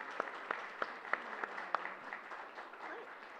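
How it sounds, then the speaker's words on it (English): Sparse audience clapping at an academic symposium, a handful of distinct sharp claps at a steady pace over about two seconds before thinning out, fairly quiet and close. "One more round of applause."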